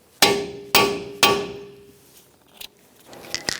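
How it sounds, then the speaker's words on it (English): A hammer strikes a cold chisel to peen the front axle nut on a 2012-2017 Hyundai Accent 1.6L, three loud ringing metallic blows evenly spaced and close, followed by a few lighter taps. "so now we're just going to peen our axle nut. I'm using a cold chisel."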